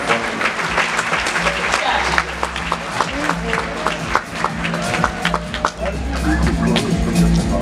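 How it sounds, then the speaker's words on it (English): Applause from a pageant audience, dense and loud, with crowd noise and voices mixed throughout and a swell toward the end. "A big round of applause."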